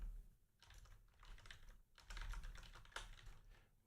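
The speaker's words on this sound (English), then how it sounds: "What's up with all this typing?" Typing on a computer keyboard, a quiet and steady patter of key clicks with brief pauses between short bursts, no voices.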